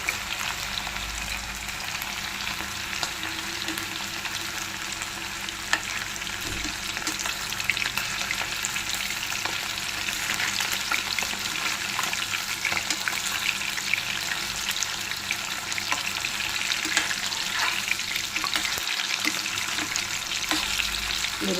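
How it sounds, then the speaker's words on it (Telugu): Chicken pieces frying in hot oil in a pan for a spicy chicken fry, with a steady, dense sizzle close up throughout and occasional faint stirring scrapes. "చికెన్ వేస్తానండి, బాగా కుక్ అవనివ్వాలి."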